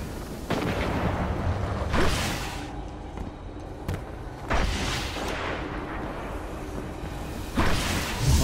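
Heavy artillery fire in the video game Rumble, with repeated deep booms and whooshing blasts every few seconds over a constant roaring battle din.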